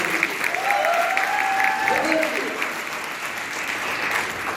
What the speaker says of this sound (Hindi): तो एक बार तेज बहादुर जी के लिए जबरदस्त ताली।